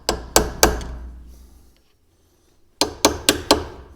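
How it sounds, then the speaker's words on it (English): Sharp metallic blows of a hammer on a screwdriver at an MG ZT or Rover 75 rear brake, three quick strikes, a pause, then four more in a fast cluster, loud and close. "Just got a normal screwdriver, whereas normally I'd use a little chisel. Just got a normal hammer"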